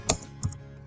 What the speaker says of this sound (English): Type in a message